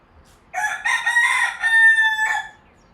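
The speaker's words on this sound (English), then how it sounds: "There's Rooster joining this conversation." A rooster crows once, a loud, drawn-out cock-a-doodle-doo lasting about two seconds, close by against a quiet background.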